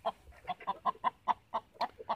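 Gamefowl roosters cluck in a steady series of about nine short, evenly spaced calls, fairly faint and with no voices over them.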